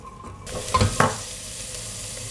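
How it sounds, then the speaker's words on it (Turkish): Chopped onion hits hot olive oil and sizzles loudly, with a couple of stirring scrapes, then settles into a steady frying hiss. "Üzerine yarım kahve fincanı zeytinyağı ekleyerek kavuruyorum."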